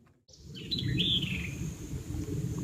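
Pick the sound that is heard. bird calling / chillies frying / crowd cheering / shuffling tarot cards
bird calling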